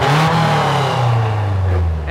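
Engine-swapped project car running on a FuelTech ECU, a steady loud idle with a slight rev at the start, close and continuous.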